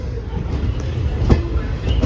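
A train rumbles along at low speed with heavy rolling noise and a brief metallic clank, a close, steady rail sound as it pulls into Machilipatnam railway station in Andhra Pradesh.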